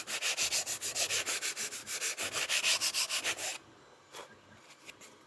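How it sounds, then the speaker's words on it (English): Rhythmic back-and-forth sanding of a model airplane's balsa horizontal stabilizer to round its edges, about twenty quick close strokes, then a few faint scrapes after the steady rubbing stops. "Horizontal stabilizer, same thing. Sand it round."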